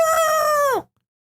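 A single loud rooster crow, drawn out and ending with a falling tail, then abrupt silence.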